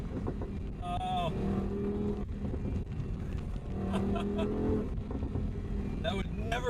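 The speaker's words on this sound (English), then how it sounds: "You can probably tell just by the sound just how quick it rolls right into the next gear." A 2018 Audi R8 V10 Plus Spyder engine revving and shifting up through gears, rising pitch sweeps cut by quick shifts, heard from inside the car under ongoing talk.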